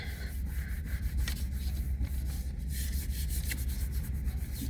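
A hand firmly rubs the back of paper laid over a gelli plate with leaves beneath, producing a continuous close scratchy friction sound at steady loudness for several seconds.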